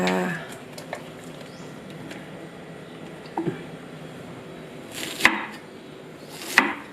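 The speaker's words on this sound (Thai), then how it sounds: "ก็มาดูยายหั่นหน่อไม้จากสวนเราเองนะคะ" Sparse knife chops on a cutting board cutting bamboo shoots, a few soft cuts followed by two sharper, louder strikes near the end, in a quiet setting.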